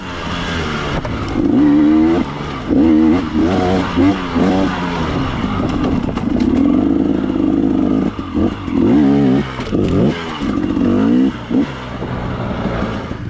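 A KTM 300 two-stroke dirt bike ridden on a forest trail, its engine revving up and down in repeated loud bursts close by, the pitch rising and falling with throttle changes over a continuous engine drone.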